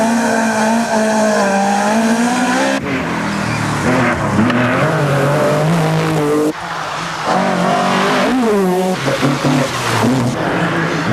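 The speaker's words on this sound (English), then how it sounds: "James Cullen, still in trouble with the Escort, is caught by Dan Daley's Nissan." Rally cars, a Ford Escort and a Nissan, race on a stage of the 1985 Cork 20 International Rally, with loud, close engines revving and shifting through the gears and brief tire squeal.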